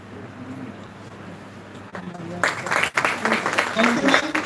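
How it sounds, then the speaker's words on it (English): An audience at a live event breaks into applause partway through, a burst of dense clapping that swells and carries on after a stretch of quieter room sound and brief talk. "Please give a big round of applause for this moment."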